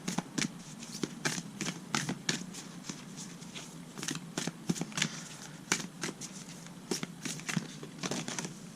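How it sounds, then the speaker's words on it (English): Moonology oracle cards being shuffled by hand, a string of quick papery riffles and flicks repeating in uneven bursts, close and fairly quiet, with no talking. "I want to pull a Moonology card for you."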